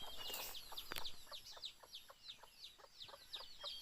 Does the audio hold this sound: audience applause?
no